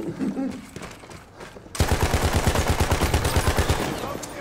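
Rapid machine-gun fire in Battlefield 1 bursts in abruptly after a moment of low background voices and keeps hammering in a steady, loud stream of close shots.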